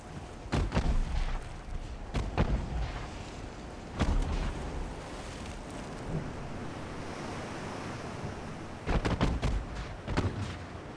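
Naval gunfire booms during a destroyer battle in the video game Ultimate Admiral Dreadnoughts, with several heavy blasts over a constant wash of sea and wind, some coming in quick clusters.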